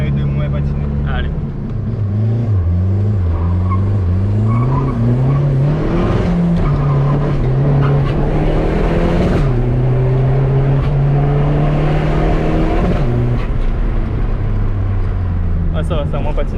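A Seat 1.9 TDI diesel car revs hard and accelerates with spinning wheels, its loud engine note rising and falling in repeated pulls throughout, with voices talking over it.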